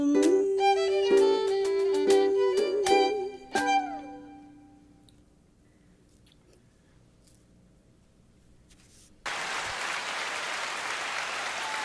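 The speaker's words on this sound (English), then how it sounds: "The applause button is going wild for Allison Lynch and all four of her" After a jazz vocal performance ends with sustained piano and voice notes fading into quiet, a burst of steady applause suddenly rises and continues to the end.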